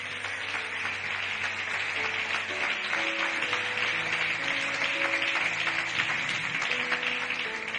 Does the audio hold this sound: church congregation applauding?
yes